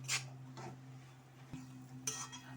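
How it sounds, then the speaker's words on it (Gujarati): Gram flour stirred into ghee in a pan for mohanthal: a spoon scrapes and clinks against the pan in a few soft, separate strokes over a steady low hum. "હવે ઘી સાથે આપણો ચણાનો લોટ મિક્સ થઈ ગયો છે હવે તમારે આને સતત હલાવતા રહેવાનું છે"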